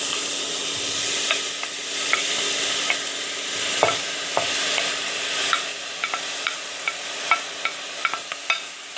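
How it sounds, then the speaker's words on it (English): Tomatoes stirred into a sizzling pan of vegan jackfruit seed curry with ginger, a steady loud fry hiss broken by irregular scraping clicks of a spoon against the pan, close and without talk. "And now we're going to add our tomatoes."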